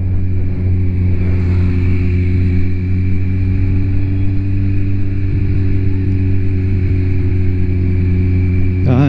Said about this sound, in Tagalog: Dahan-dahan ng dumadami yung mga motor dito.